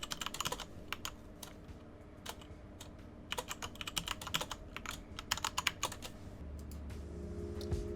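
Password being typed on a computer keyboard: rapid bursts of light key clicks in uneven clusters, close and fairly quiet, with no voices.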